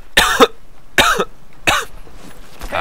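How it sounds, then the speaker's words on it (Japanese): Three dry, hacking coughs from one person, close and loud, spaced about a second apart during a Battlefield 4 gaming session, with a fainter fourth catch at the end. "あー咳がちょっと乾燥してるからね、マジ咳が止まんないから"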